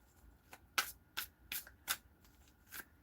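Tarot cards being shuffled by hand in a run of crisp riffling bursts, close and fairly quiet, each brief flutter separated by short pauses.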